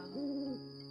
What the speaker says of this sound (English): Oh my god, an owl.